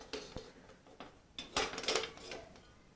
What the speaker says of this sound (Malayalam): ചട്ടി അങ്ങോട്ട് അടുപ്പത്തേക്ക് വെക്കാം